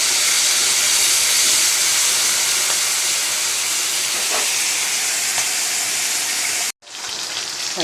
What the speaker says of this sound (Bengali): মাছটা একটু হালকা করে ভেজে নেব